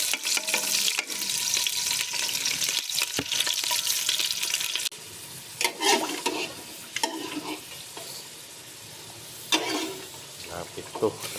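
Garlic, onion and chili sauté in a pan for a Filipino sinigang of goat head and feet, with a steady bright sizzle and scraping stirs that turn into intermittent clatter, while faint voices are heard now and then.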